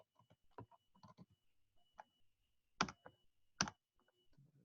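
Keys are clicked one by one on a virtual calculator: sparse, sharp clicks at an uneven pace, two standing out louder, in a quiet room with no talking.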